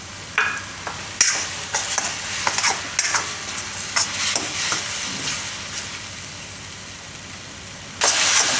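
Masala cooking in oil in a pan for winter-style Maggi, a steady bright sizzle with intermittent spatula scrapes and stirring clicks, close and continuous, with a louder burst of sizzling at the end.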